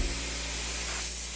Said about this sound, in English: now I am spraying the sap green color on the rear portion of the fuselage